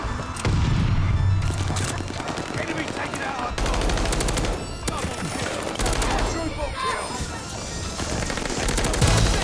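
Dense rapid gunfire from the Call of Duty Vanguard video game, sustained automatic bursts with booms and impacts layered throughout, loud and continuous.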